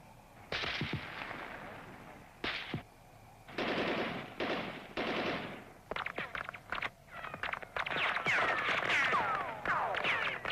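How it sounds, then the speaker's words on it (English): Machine gun fire rattles from a protected guard position in sharp, rapid bursts, followed by denser overlapping volleys, loud and reverberant. "the two terrorists are eliminated by machine gun fire from the protected guard position"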